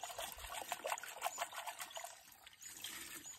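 Petrol-like liquid trickles and dribbles while a power tiller fuel filter is rinsed, a close, irregular patter of small pours and drips that thins out toward the end.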